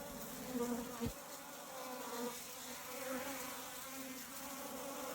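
Steady buzzing of Africanized bees around their queen during a removal from an irrigation box fills the clip, close and continuous, with a brief louder pass partway through.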